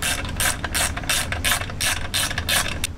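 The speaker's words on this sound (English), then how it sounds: "Then you get your ratchet and get it nice and tight." A hand ratchet tightening the engine mount bolts on a Phatmoto Rover 2020 79cc four-stroke motorized bicycle, giving loud close clicking bursts in a quick, even back-and-forth rhythm heard on its own.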